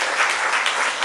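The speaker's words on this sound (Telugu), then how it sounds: "చప్పట్లు కొట్టి దేవుని స్తోత్రం" A church congregation clapping their hands together in praise during a sermon, a dense, steady wash of many hands close by, filling the short moment without any voices.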